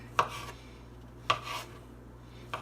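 Mushroom stems are chopped with a knife on a board, three distinct sharp cuts spaced about a second apart, each followed by a brief scraping rub, quiet and close with no talk.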